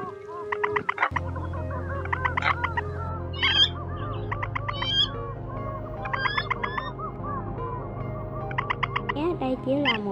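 Recorded calls of crakes, rails and coots, played back as a bird-trapping lure: sharp chattering and piping bursts repeat over a steady low hum, loud and continuous throughout.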